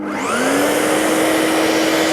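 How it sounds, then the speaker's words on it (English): A vacuum cleaner starts up with a rising whine, then runs loud and steady with a constant high-pitched hum. "Dead set, a vacuum cleaner."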